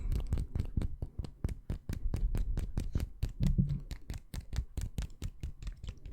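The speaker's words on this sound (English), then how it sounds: "you get your nail and you use your other nails to tap" Rapid, crisp fingernail taps on a hard nail, a steady run of clicks lasting several seconds with a little scratching mixed in, close up.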